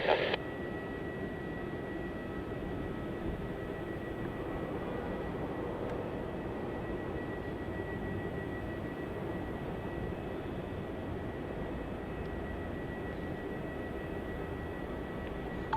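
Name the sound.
Thai Airways Airbus A350-900 landing at Melbourne Airport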